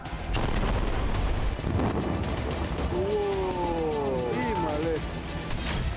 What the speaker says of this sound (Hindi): जमीन पर टैंक की गर्जन, तबाह होती इमारतें